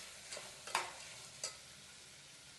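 Chopped carrot, beetroot and peas for pav bhaji are stirred in a pan, giving a few soft scraping strokes and faint sizzling, ending with a sharp clink.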